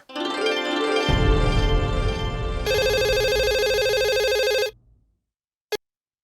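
A telephone rings loudly and steadily through an outgoing call, a continuous electronic ring with a dense, buzzy tone that runs for several seconds and then cuts off, followed by one brief click.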